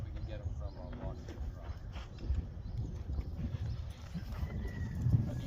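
A horse walks on ground at a farm with other horses boarded nearby, its hooves clip-clopping in a steady rhythm under continuous low rumble and background talk.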